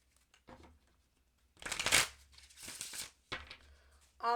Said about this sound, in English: One more shuffle for my Capricorns